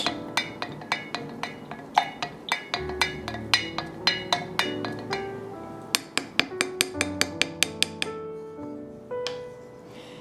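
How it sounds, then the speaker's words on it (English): A spoon stirs a bath mixture in a metal or glass vessel, giving a long run of sharp, close clinks and taps in a steady, quick rhythm with ringing tones, and no talk. "just stir it with some kind of natural spoon, like metal or wood"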